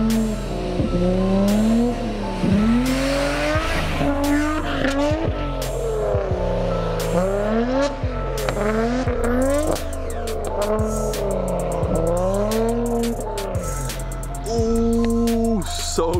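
A stanced sports car slides through a mountain corner, the engine revving and dropping repeatedly while tires squeal in a loud, continuous wash close by.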